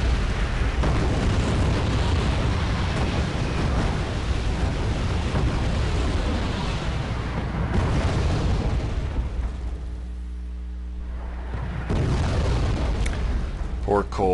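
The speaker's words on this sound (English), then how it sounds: "The Conquerors and the T-80A open fire. There's 2 Havocs there, which also open fire" Conqueror and T-80A tanks and two Havoc helicopters open fire in Wargame, a sustained loud barrage of booms and rumbling blasts that briefly eases before resuming.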